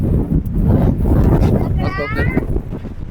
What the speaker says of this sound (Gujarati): બહુ પવન આવે છે